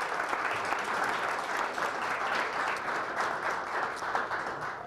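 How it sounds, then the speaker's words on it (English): An audience applauds steadily at the Medina County Auditor Seal Awards ceremony, a dense, even patter of many hands clapping throughout, moderately distant in the hall. "Let's give them a nice round of applause."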